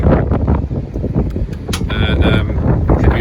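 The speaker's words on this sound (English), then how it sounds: "Oh, it's so windy." Gusty wind buffets the microphone in a steady broadband roar beside a VW T4 camper van, with a few brief clanks and a short tonal whine partway through.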